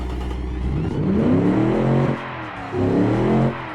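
A 1974 car engine built in Automation on superleaded fuel revs in two rising pulls separated by a brief drop, loud and close, with no voices.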